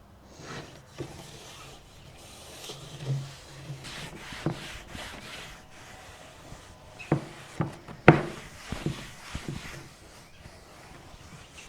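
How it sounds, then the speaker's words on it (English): Rag and scrub strokes on the surfaces of a vintage art deco wood hutch during degreasing, soft uneven rubbing punctuated by a few sharper scrapes and knocks, close and alone without speech. "I want to give everything a very, very thorough cleaning, degrease everything, get rid of any polishes, silicones, any waxes that might be on the surface of this piece."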